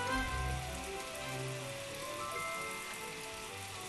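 Steady rain patters across surfaces in the farming life-sim game My Time at Portia, a dense, even hiss that holds for several seconds without speech.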